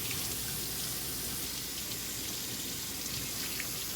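Cutting board rinsed under a running kitchen tap, a steady full stream of water splashing continuously into a sink, close and fairly loud with no talking.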